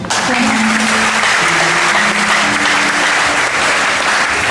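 A church congregation applauds continuously and loudly, a dense wash of clapping with a faint sustained voice or tone running underneath throughout.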